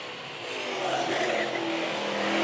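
Midwest Mod race cars circle a speedway during a championship race, engines droning loud and building as the pack sweeps past, with a commentator's voice mixed under the roar.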